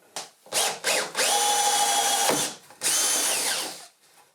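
A power drill bores holes into a wooden birdhouse in two sustained whining bursts preceded by short revving starts, loud and close, with the motor pitch dipping as the bit bites into the wood.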